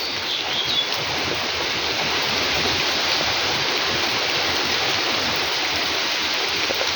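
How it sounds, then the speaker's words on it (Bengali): Heavy rain pours steadily outdoors, a loud, dense, continuous hiss and patter that stays constant throughout with no pauses or voices. "বাইরে প্রচণ্ড বৃষ্টি"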